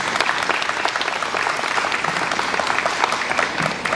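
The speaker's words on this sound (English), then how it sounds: "Let's give them a round of applause." Audience applause at a ward affordable housing resource fair, dense steady clapping from a gathered crowd lasting the whole stretch, with faint voices underneath.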